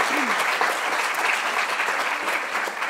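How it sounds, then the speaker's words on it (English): At an NATECLA awards ceremony, a roomful of people gives Penelope a steady round of applause, with dense, even clapping throughout and a few faint voices underneath. "So could we have a round of applause for Penelope?"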